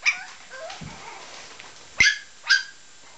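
A four-week-old Parson terrier puppy yips and barks at collie puppies close by, a few short high-pitched barks and whimpers separated by pauses, with two sharp yaps near the end.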